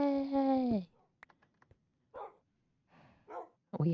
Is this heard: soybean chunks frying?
no